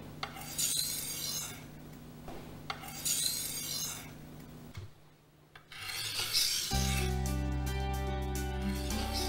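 A kitchen knife drawn from heel to tip across a Norton sharpening stone makes repeated gritty rasping strokes up close, followed by a brief quiet gap and then steady tonal background sound.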